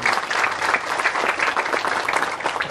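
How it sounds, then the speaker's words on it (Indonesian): A crowd of villagers claps in a dense, steady burst during a governor's visit to flood victims in Kupang, NTT, the applause sustained and fairly close. "Kita beri tepuk tangan dulu untuk"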